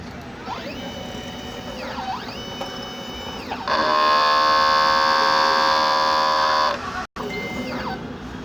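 A DTF printer runs a head clean, giving a mechanical whirring with rising and falling motor sweeps that gives way to a steady, louder tonal drone for a few seconds, then stops abruptly before the sweeps resume.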